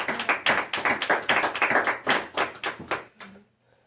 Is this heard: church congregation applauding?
yes